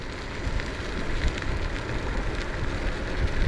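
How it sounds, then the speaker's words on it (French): Wind rushes over the microphone while riding a Navee V40 Pro electric scooter at about 24 km/h, a loud, constant buffeting roar with gusty swells. "En sachant qu'il y a quand même pas mal de vent."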